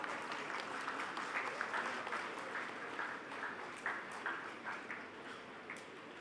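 Applause from the audience at an IIM Kozhikode convocation ceremony, a steady wash of many hands clapping at moderate distance, fairly even throughout with no voices standing out.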